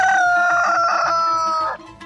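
A rooster in a read-aloud Russian folk tale lets out a single loud, close crow, sustained and tonal for nearly two seconds before cutting off, with no talk over it.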